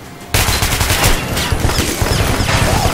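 Enemy gunfire erupts suddenly in Metro Last Light, loud and close, with rapid overlapping bursts and shots crackling continuously for several seconds after a quiet start.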